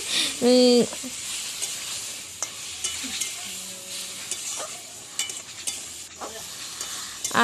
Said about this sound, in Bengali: তার জন্য পটলগুলো ভেজে নিলাম